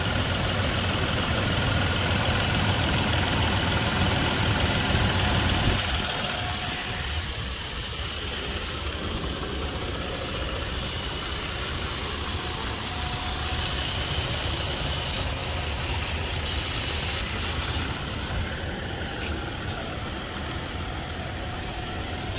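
A 2021 Toyota Tacoma engine idles with a slight tick, giving a steady, close, continuous rumble that drops a little in level partway through, with no talking.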